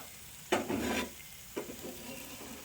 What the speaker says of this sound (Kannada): ಈಗ ಮಸಾಲೆ ಫ್ರೈ ಆಗಿದೆ ಇದಕ್ಕೆ ಮೀನಿಟ್ಟು ಈ ಮಸಾಲೆ ಎಲ್ಲ ಇದ್ರ ಮೇಲೆ ಸ್ಪ್ರೆಡ್ ಮಾಡಬೇಕು